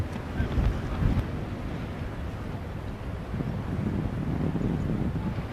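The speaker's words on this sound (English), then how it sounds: "It's seriously gusty too" Strong gusty wind buffets the microphone on a golf course during a professional tournament, a steady loud low roar that swells and eases throughout, with no talking.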